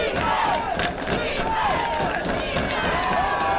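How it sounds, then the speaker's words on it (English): Crowd noise at a college football stadium fills the air during a Westminster versus Case Western game, a dense continuous roar with rhythmic chanting swells, loud and steady throughout. "the crowd is now chanting defense"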